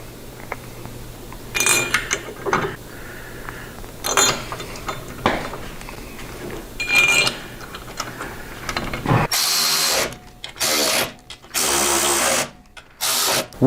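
Ratchet on a bolt at a Harley-Davidson fairing support bracket: faint clicks and handling noises at first, then loud close-up ratcheting in several clicking bursts separated by brief pauses, with no speech.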